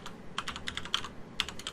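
Keystrokes on a computer keyboard, a quick run of light clicks, a short pause, then a few more taps, close and fairly soft with no talking.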